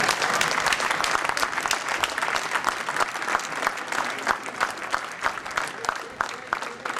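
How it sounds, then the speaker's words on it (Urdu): Audience at an annual award night applauding as a $5000 cheque is presented, dense sustained clapping from a crowd filling the room. "اس سے بہت ساری تالیاں ہونی چاہیے"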